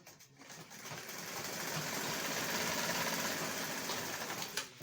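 A sewing machine stitching across a fabric flap on a child's Senator top, a close, steady mechanical whir that ramps up, runs continuously for several seconds, then stops.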